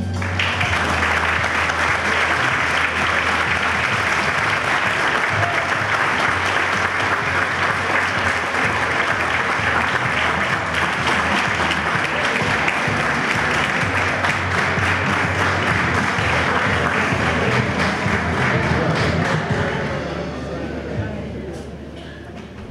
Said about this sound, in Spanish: Que sea vivo ese aplauso